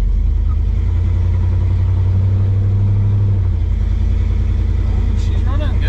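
A CUCV military truck with an engine built from mismatched parts idles with a loud, steady low rumble that dominates throughout and drops slightly partway, while people talk over it.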